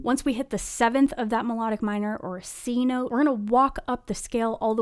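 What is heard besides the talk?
No distinct noise like a dog, phone or traffic.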